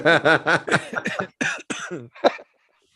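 A series of harsh coughs and throat-clearing bursts, close and loud, about eight rapid spasms trailing off into silence.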